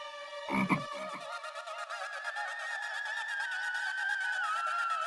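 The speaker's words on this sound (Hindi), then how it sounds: "मेंढक" After a short thump, a frog croaks in a long, buzzing, pulsing trill that rises slightly in pitch and continues steadily.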